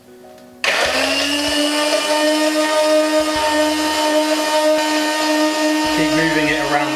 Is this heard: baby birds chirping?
no